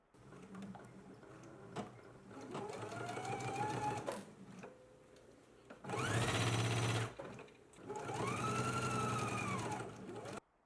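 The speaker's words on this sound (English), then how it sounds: "let's go ahead and stitch from the inner small dot to the corner seam now" A sewing machine stitches a sleeve lining seam on a McCall's M8601 garment in several separate bursts, with short pauses and handling between runs, the middle burst loudest; nearby and with no talking.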